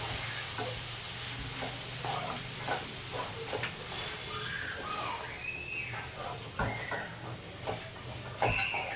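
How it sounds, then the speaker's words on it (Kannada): Whole gram (kaalu) frying in a pan for bassaru, a steady close sizzle with scraping stirring strokes and occasional clinks of the spoon against the pan. "ಕಾಳು ಹಾಕ್ಕೊಂಡು ಚೆನ್ನಾಗಿ ಫ್ರೈ ಮಾಡ್ಕೊಳ್ಳಿ"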